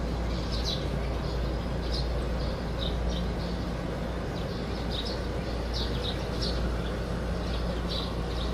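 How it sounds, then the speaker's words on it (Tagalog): Birds chirp among trees at a quiet lodging in Puerto Princesa, Palawan, with faint, scattered high calls over a steady low hum. "Sarap ng huni ng mga ibon."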